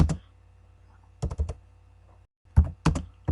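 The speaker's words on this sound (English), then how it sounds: "we're going to go ahead and type in" Computer keyboard typing in short, quiet bursts of rapid clicks separated by pauses, close up in a quiet room.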